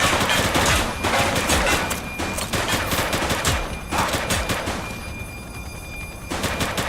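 Police shootout in The Precinct, a top-down GTA-style video game, with close, loud rapid gunfire in dense volleys and short pauses, nearly continuous across the stretch.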